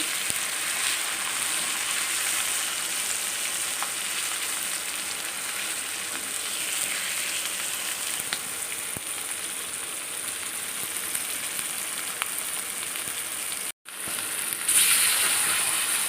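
Koduva fish fries in hot oil in a pan, a dense steady sizzle and crackle throughout, close and even, briefly cut off near the end before resuming slightly louder.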